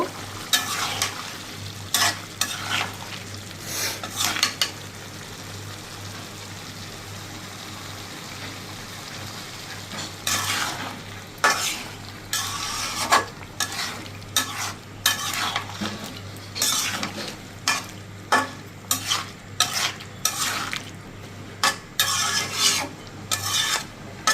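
Potatoes sautéed in a pan and stirred: bursts of scraping and rasping strokes from a utensil against the pan over a low, steady sizzle, coming in uneven clusters with no talking.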